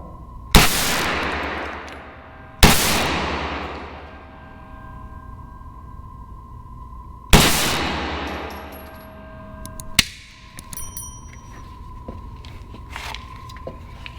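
A Kel Tec Sub 2000 9mm carbine fires four single shots outdoors, each a sharp loud crack with a ringing decay, spaced several seconds apart, followed by faint metallic clinks.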